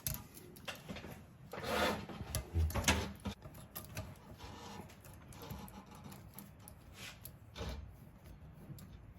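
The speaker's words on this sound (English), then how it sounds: "all you're doing is compressing the spring so you get that lock out" A valve spring compressor worked on the cylinder head of a Continental 134 engine from a Massey Ferguson 35 tractor, giving close, scattered metallic clicks, scrapes and clunks at uneven intervals.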